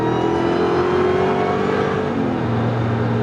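A modified Jeep with a 392 engine revs hard at close range, a loud, steady, throaty roar that rises and falls slightly in pitch and holds for about three seconds with no talk over it.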